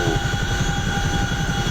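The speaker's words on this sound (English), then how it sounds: "That C-130 gave me a nice little flyby." A C-130 transport aircraft in the DCS flight game passes close by, a loud steady propeller drone with a pulsing low throb and a high whine, with no talk.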